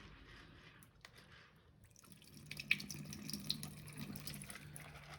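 Sprouting wheat grains being stirred in water that is then poured off, heard as faint swishing followed by a steadier trickling, splashing flow; no voices.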